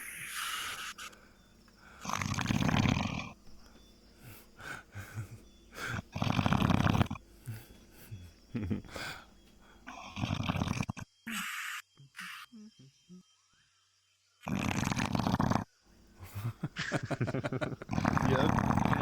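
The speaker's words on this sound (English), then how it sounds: "he was really snoring" Loud snoring in a VRChat session, rasping breaths coming in irregular bursts with pauses, mixed in among people talking nearby.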